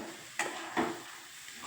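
Semolina porridge sweetened with jaggery is stirred in a pan, two soft scraping strokes over a faint low sizzle, quiet and close, with no talk.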